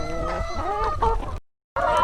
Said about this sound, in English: Another pretty rooster and another pretty gray hen.